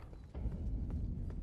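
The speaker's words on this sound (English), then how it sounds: "That is a big horse." Horse hooves clip-clopping in Elden Ring, a steady rhythmic trot of a big horse in the Limgrave area, close and continuous after a brief quieter start.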